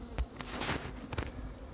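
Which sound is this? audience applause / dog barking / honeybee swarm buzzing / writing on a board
honeybee swarm buzzing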